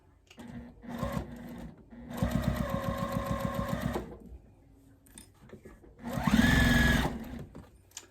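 Sewing machine stitching a quilted table runner in short bursts, several runs of fast whirring stitches separated by pauses, with soft handling noises between.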